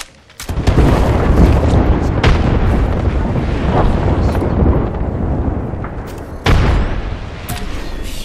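A frag grenade blast in Apex Legends, a heavy booming explosion with sustained rumbling debris and a second sharp burst later, amid gunfire-like action.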